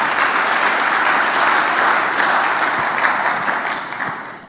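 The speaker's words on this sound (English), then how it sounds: "You can give her an applause, yes." An audience at a business conference on community impact bursts into sustained applause, loud and dense throughout, then tapering slightly near the end with no voices over it.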